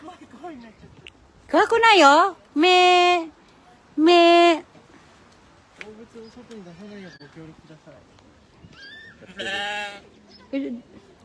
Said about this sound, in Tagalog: nandito tayo sa mga kambing